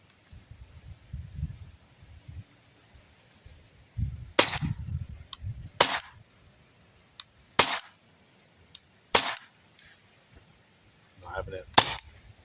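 Sharp, crisp shots from an Umarex Glock 17 gen 5 pellet pistol, about six spaced cracks fired close, with low rustling and handling noise between them.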